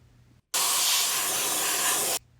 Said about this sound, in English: Spray the area down with cleaner and use an air gun to dry it afterwards.